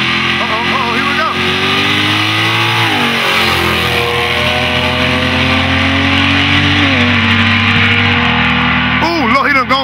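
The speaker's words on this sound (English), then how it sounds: "Street car action." Street racing cars accelerate hard, with loud sustained engine roar and revving that rises and shifts through gears, close and dominant, while an announcer talks over it.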